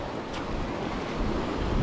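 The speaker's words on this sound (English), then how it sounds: "swells at the moment are just real big, and we're getting sprayed, getting blown around" Big ocean swells and strong wind at sea seen from a kayak on a camping trip: a steady, full roar of surf and buffeting wind noise fills the whole stretch at constant loudness, with no voices.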